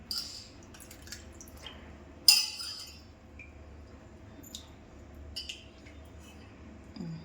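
Freshly washed slices for homemade chips drain in a container, giving faint scattered drips and one sharp clink in a quiet room with no voices.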